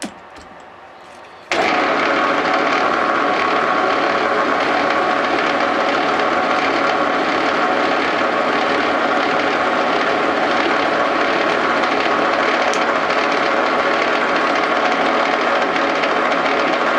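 A lathe machining copper round bar at 550 RPM: after a short quieter start, a loud, steady mechanical drone with a harsh cutting hiss holds without a break through the rest.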